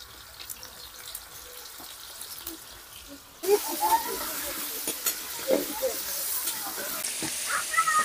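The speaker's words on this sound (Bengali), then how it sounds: "এবার আলুগুলো ভেজে নেব।" Potatoes frying in oil with turmeric powder in a home kitchen: a steady, close sizzle starts abruptly partway through and continues without a break, with faint voices in the background.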